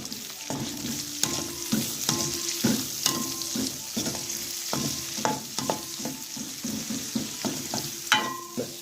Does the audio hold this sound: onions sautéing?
yes